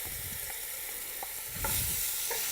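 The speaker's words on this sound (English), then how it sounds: "It should make a big old sizzle." Lamb for a stir fry sizzles loudly in a hot pan, a constant crackling hiss with occasional stirring clinks, no talking.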